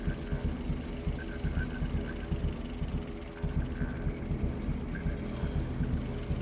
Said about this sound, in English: Car sounds like it's had better days.